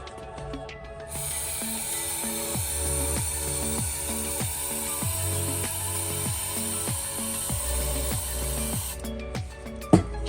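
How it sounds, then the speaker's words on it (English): A continuous hiss of aerosol spray being shot into cylinder 4 of an engine, steady and fairly close, running for most of the stretch with some clicking and rattling underneath. "I'm gonna spray into cylinder 4"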